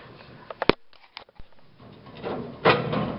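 A few sharp metallic clicks and clanks as a hinged door on a metal stock tank heater box is opened, followed by a rising rustle of handling noise.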